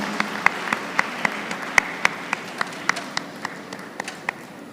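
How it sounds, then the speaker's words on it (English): Applause at a university convocation ceremony for a BA LLB Honours graduate: a steady wash of many hands, with sharp individual claps popping out at a regular pace and slowly easing off, no voices over it. "Let's give her a huge round of applause."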